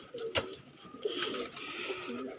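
Pigeons coo softly nearby in low, throaty bursts, with a few light rustles and background hiss between calls.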